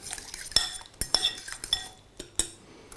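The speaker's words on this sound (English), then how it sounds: "Mix those around." Chopped shallots, cooked in butter and cooled, stirred into a crab cake mixture: a run of sharp utensil clinks and scrapes against a bowl at an uneven pace, close and fairly quiet.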